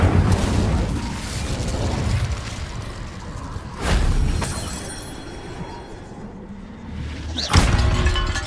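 Incendio fire spells burst in the Hogwarts Legacy video game, with loud fiery booms near 0.5, 4 and 7.6 seconds, each followed by a roaring, crackling tail and clattering debris.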